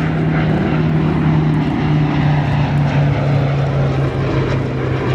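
A four-engine propeller aircraft prototype passes at an airshow, its engines making a loud, steady droning hum with a strong low tone that holds throughout.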